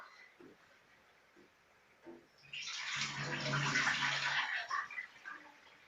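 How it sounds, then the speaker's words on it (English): Milk pours into coffee while it is being made, a smooth liquid splash that rises to a steady, fairly loud stream for about two seconds and then tails off, with faint background sounds before and after. "That is the correct way for pouring a coffee or pouring milk when you're making a coffee."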